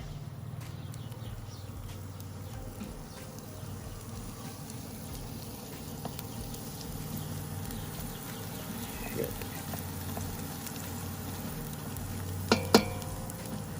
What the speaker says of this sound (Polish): Teraz dodam czosnek. i mieszam starannie.